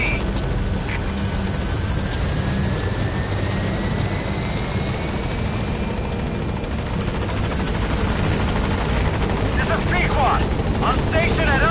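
A helicopter in Metal Gear Solid V arrives at a landing zone, its steady rotor and engine drone loud and continuous throughout, with radio-style voices talking over it.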